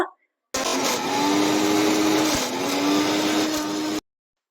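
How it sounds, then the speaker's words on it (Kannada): A mixer grinder grinding chiroti rava (fine semolina) runs loudly and steadily for a few seconds, a high whirring roar with a brief dip midway, then cuts off sharply. "ಚಿರೋಟಿ ರವೆನ 1 ಬೌಲ್ ಹಾಕಿದ್ಮೇಲೆ ಮತ್ತೆ ನಾವು ಇದನ್ನ ಮಿಕ್ಸಿ ಮಾಡಬೇಕು"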